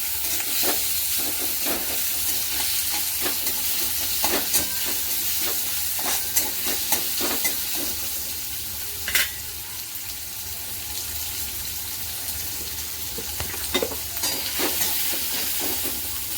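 Sliced onion and curry leaves fry in a pan for masala dosa, giving a steady hiss of sizzling with frequent clinks and scrapes from stirring, close by and with no talk.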